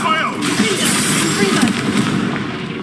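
In the video game Hogwarts Legacy, a Confringo blasting spell goes off as a dense, crackling burst of explosive noise that carries on for about three seconds under voices and game sounds.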